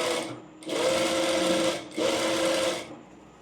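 Sewing machine stitching a blouse dart in two short, close bursts of rapid whirring, separated by a brief pause.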